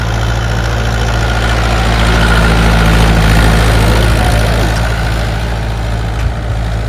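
A tractor engine idles steadily with a low, continuous rumble and a steady mechanical drone, loud and close, holding an even level throughout without revving.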